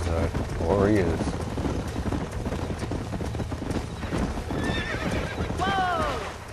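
Horses in the Western video game Red Dead Redemption, with steady clip-clop hooves throughout and two rising whinnies, one early and a longer one near the end, loud and close against busy background noise.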